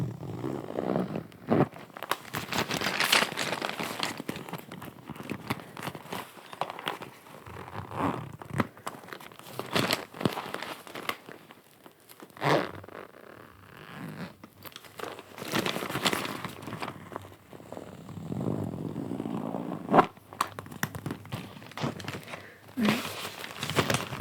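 Rattling, clicking and crinkling as small hard objects shift and knock together in a case, in irregular bursts, close up.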